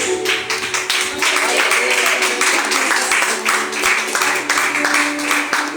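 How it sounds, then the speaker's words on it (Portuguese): A church congregation claps for Jesus at the end of a prayer, a fast rhythmic round of many hands, loud and steady, with voices mixed in beneath. "E as palmas é para Jesus."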